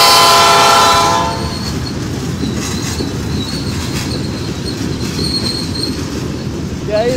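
A Canadian National 9638 freight train passes close by, a loud steady rumble and rattle of rolling wagons filling the whole clip after a brief horn blast at the start, with wheel squeal and clatter throughout.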